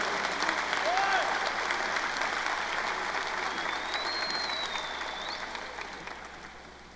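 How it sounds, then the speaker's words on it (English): Audience applause as a graduate walks onto the stage at an RCC 2025 commencement ceremony, an even, rain-like wash of clapping from a large crowd that holds steady and then slowly fades. "Let's give Raul a round of applause as he enters the stage"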